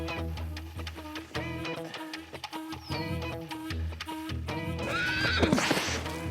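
A stallion whinnies and neighs loudly several times over a busy music bed, with clip-clop hooves and a shrill final whinny rising near the end.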